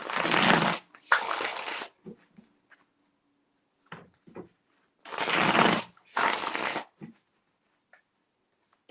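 Tarot cards are shuffled in two pairs of quick, crisp riffling bursts, close and clear, separated by quiet pauses with small handling taps.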